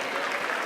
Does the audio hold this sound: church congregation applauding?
yes